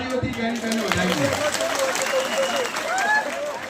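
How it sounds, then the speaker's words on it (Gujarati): Villagers at a Thakor community gathering in Vana applaud to welcome MP Geniben, a brisk patter of many hands near the mic, while a voice carries over the clapping and background chatter mixes in. "આપણે બધા તાળીઓથી જ્ઞાનીબેનને વધાવીએ"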